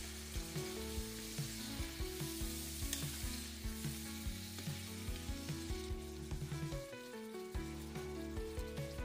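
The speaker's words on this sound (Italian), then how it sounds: "Tagliamo anche i pomodorini e li aggiungiamo al soffritto." Chopped cherry tomatoes sizzle steadily in a soffritto of olive oil, with a continuous frying hiss and occasional stirring clicks and taps throughout, moderately close and with no voices.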